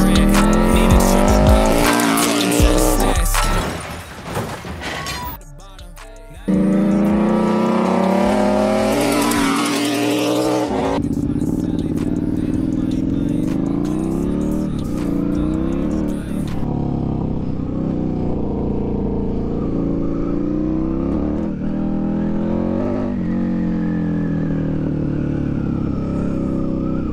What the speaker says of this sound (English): My fucking clutch is slipping.